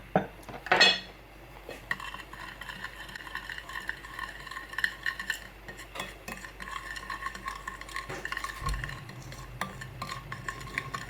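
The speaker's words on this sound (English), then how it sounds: "we take cinnamon, sugar, and we mix these two ingredients well" Cinnamon and sugar mixed in a bowl, with a spoon scraping and tapping the sides in quick repeated strokes, a sharp clink near the start and steady close stirring that continues throughout.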